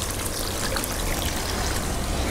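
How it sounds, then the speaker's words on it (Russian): A hose pours water into a backyard pool, a steady splashing trickle heard up close and evenly, with no talk over it. "там папа набирает воду"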